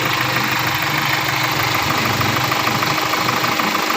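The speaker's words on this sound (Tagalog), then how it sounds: "Yung tunog niya ng makina, okay na," A repaired Hyundai Grand Starex diesel engine, freshly fitted with four rebuilt injectors and a new feed pump, idles steadily up close with a continuous low knocking rumble, no voices present.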